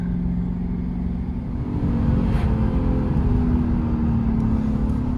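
Car engine revving near a small road in preparation for a standing start, a steady loud low rumble that rises in intensity partway through and holds there, with no talking.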